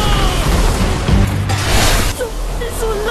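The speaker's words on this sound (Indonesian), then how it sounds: "melihat ledakan itu dari kejauhan" A heavy explosion sound effect from an anime booms and rumbles as a sustained roaring blast of noise, loud and alone with no speech.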